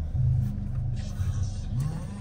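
Engine of a mom's car rumbling steadily from inside the cabin as it is moved, a low continuous drone with slight rises in revs, loud and close throughout with no talking.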